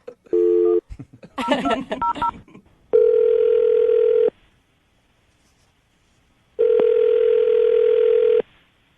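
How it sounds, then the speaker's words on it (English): A short burst of telephone keypad tones, then a ringing tone heard twice with a long pause between rings. Brief speech comes between the dialing and the first ring. "I'm going to dial the phone number right now, Amy."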